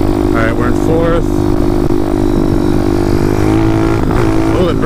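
Motorcycle engine held in fourth gear and pulled hard during a high-speed wheelie, a loud steady drone with rising pitch, close and continuous, with someone talking over it.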